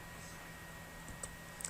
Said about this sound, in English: I'm left clicking, moving left clicking.